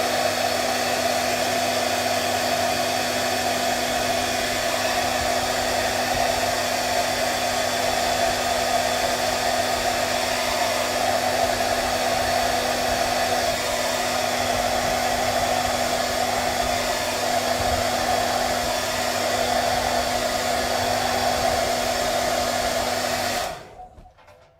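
A hair dryer blows steadily on a watercolor portrait painting to dry it, a loud, constant whirring hum with a fixed tone that runs unbroken for about 24 seconds before cutting off abruptly at the end.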